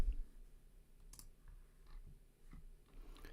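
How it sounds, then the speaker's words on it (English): Quick, light clicks from a computer keyboard being typed on, the keystrokes coming in short scattered bursts, fairly faint against a low steady background hum, with no one talking. "let me type this in real quick"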